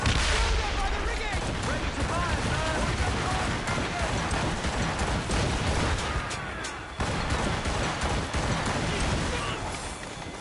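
Ship cannons boom in an Assassin's Creed Rogue naval battle, a dense, loud barrage of heavy firing with crackling debris and rumbling blasts throughout, shouted voices mixed in among the continuous roar.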